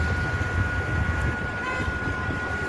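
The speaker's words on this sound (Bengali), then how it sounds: "এবার ট্রেনটা আস্তে আস্তে এগোচ্ছে" A train creeps slowly along a rural stretch of the Krishnanagar City–Amghata line, its continuous low rumble and clatter steady and close, with a thin sustained tone riding over the noise.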